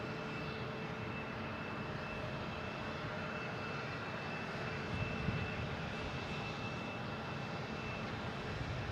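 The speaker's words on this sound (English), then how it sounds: "next taking off is a JetBlue heading to Charleston, the A220, flight 2467" A JetBlue Airbus A220 taking off from Boston Logan for Charleston sends out a steady jet roar with a faint whining tone on top, fairly distant and even, with no speech.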